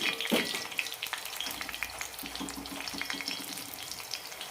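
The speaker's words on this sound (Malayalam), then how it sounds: "മീഡിയം ഫ്ലെയിമിലിട്ട് വറുത്തെടുത്താൽ മതി അപ്പോഴാണ് നല്ല ക്രിസ്പി ആയിട്ട് കിട്ടുള്ളൂ" Jowar and white maize murukku deep frying in hot oil over a medium flame, giving a steady crackling sizzle with scattered pops, close and moderately loud, with no talking.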